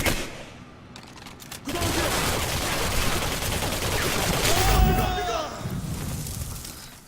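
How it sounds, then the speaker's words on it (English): Assault rifle fire in the video game Singularity, a sustained dense barrage of rapid shots running for several seconds, loud and close, with a speaking voice over it. "a full barrage of the assault rifle can have at range"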